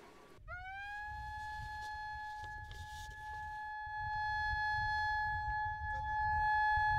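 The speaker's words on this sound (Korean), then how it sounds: "드디어 사이렌 소리가 울려 퍼지고" A siren starts abruptly and holds a steady, sustained wail for several seconds over a rumbling seaside background on Jeju Island, signaling women divers to head out to sea.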